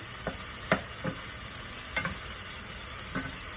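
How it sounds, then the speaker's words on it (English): Thyme and Scotch bonnet pepper sauté in a pot, giving a constant hissing sizzle with a few soft spoon clicks and stirs scattered over it. "I have a bit of thyme in there and some Scotch bonnet pepper. I'm just going to saute this a little bit"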